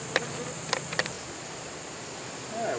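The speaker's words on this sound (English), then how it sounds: "let these bees calm down" Agitated honey bees hover around a hive while new hive stands go in, giving a faint, thin buzzing against quiet outdoor air. A few sharp clicks and ticks sound near the start, and the buzzing swells slightly at the very end.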